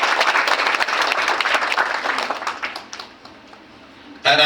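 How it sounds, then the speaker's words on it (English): An audience applauds for a group of women trainees at a financial planning training program, with dense sustained clapping that thins out toward the end before a sharp burst of clapping resumes. "I think that needs a round of applause for all the girls."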